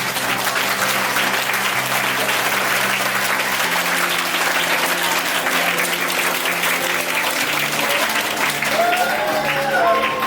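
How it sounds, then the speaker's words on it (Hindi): A large audience applauds loudly and continuously at a motivational talk, dense clapping throughout with a faint voice underneath near the end. "इतनी जोर से आज तालियों की गनगनाहट सुनाए."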